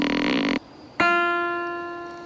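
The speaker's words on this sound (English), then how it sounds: "So, you just shot an empty bow?" A buzzy tone cuts off, then a single twangy pluck of an empty bow's string rings out with a bright resonant tone and slowly fades.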